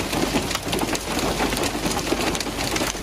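Heavy rain with hail pounds down during a storm in Islamabad, a dense, loud, continuous hiss and patter of drops and pellets striking surfaces, with no voices.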